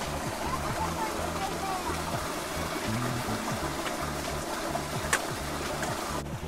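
Water rushes steadily out from under the base of a large wall beside a park pond, a continuous broad wash of flowing water with faint voices in the background.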